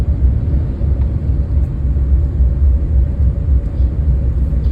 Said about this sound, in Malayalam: ഇപ്പൊ ഒരു കേറ്റത്തിലോട്ടാ നമ്മൾ വണ്ടി പോകുന്നത്